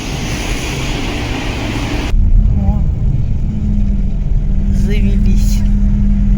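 A faulty bus engine on a trip to Kazakhstan finally catches after several failed tries: a rough broadband roar cuts abruptly into a steady, low rumbling run, with brief faint voices.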